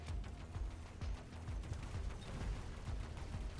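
Missiles strike targets in Mechabellum in a quick, uneven barrage of many overlapping thuds and cracks, moderately loud and continuous for a few seconds, with no voices.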